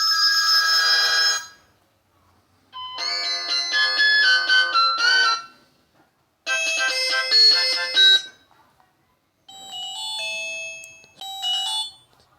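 A Lava A1 Josh mobile phone plays its ringtone in several loud bursts of electronic bell-like tones, separated by short silent gaps, close and alone.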